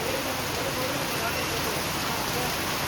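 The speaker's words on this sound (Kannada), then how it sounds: "ಇವತ್ತು ಮಳೆಗೆ ಸಿಕ್ಕಾಪಟ್ಟೆ ಇದೆ, ಮಳೆ ಸಿಕ್ಕಾಪಟ್ಟೆ ಇದೆ" Heavy rain pours steadily onto a flooded road in Sringeri, making a dense, unbroken roar of water at constant loudness throughout, with no voices standing out.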